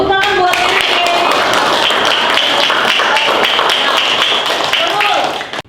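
Classroom of students clapping together for a classmate, a dense steady burst of many hands lasting several seconds and then stopping abruptly, with a few voices mixed in.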